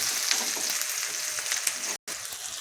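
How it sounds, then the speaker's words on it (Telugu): Onions fry in a pan with cumin and mustard seeds, making a dense, even sizzle close by that cuts out for a split second near the end and then resumes. "చూసారా ఆనియన్ ఎంత రెడ్గా వేగిందో"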